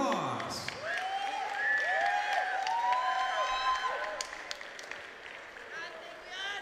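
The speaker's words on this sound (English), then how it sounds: "Let's give both of these ladies a round of applause." Arena crowd applauding and cheering two female featherweight boxers after a 2019 SEA Games final bout, with sustained clapping, shouts and whoops that gradually thin out.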